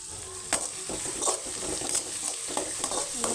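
Onions with ginger garlic paste sauté lightly in a pan, giving a steady soft sizzle broken by periodic scraping strokes of a stirring spoon at close range, with no voices.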